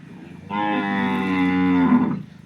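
A single local Banaskantha cow gives one long, loud, close moo lasting under two seconds, rising slightly in pitch before trailing off into quiet barnyard background.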